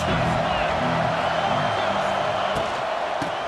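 Football stadium crowd at a Mississippi State versus Arkansas college game, a steady loud roar of cheering and whooping that holds for the whole stretch, with occasional sharp thuds and a commentator's voice running underneath.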